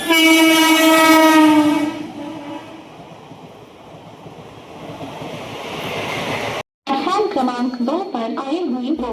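A train at Thane station on the Konkan Railway sounds a long, loud horn, then a rolling rumble fills the platform until speech takes over near the end.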